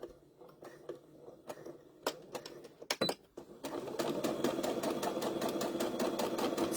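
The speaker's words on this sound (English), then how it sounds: "Lining my fabric up right at the edge of the presser foot." A sewing machine stitches fabric for a pot holder, first in short bursts of separate stitches, then running in a steady, fast, close rhythm.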